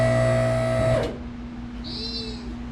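An electric car lift motor hums steadily while raising a 1999 Ford Explorer in a garage, then cuts off abruptly about a second in, leaving a faint lingering tone and a soft high squeak.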